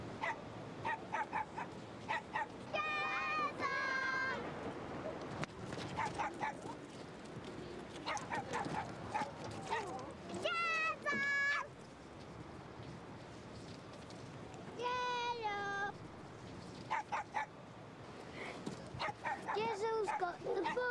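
A cartoon dog barks and yips in short repeated bursts among other cartoon sounds at a beach, with spoken dialogue in between and a continuous background bed.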